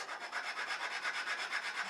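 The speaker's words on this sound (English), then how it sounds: "using a little sandpaper on a piece of MDF like this and rubbing it is probably faster and easier than going to a belt sander" A wooden snowman ornament is rubbed back and forth on sandpaper laid over an MDF board, making a quick, even rhythm of soft, raspy strokes, about four per second, close and alone.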